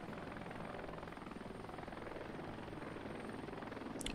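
A helicopter carrying a slung load in the video game Heliborne drones on steadily with a continuous rotor chop and engine whine, close and constant throughout, with no talking.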